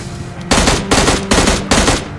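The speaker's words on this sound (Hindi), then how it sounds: "अब इधर से अपार्टमेंट से फायरिंग आ रही थी।" Gunfire from an apartment in an online shooter video game: four loud, close bursts of rapid automatic fire, each about a third of a second long, separated by short pauses.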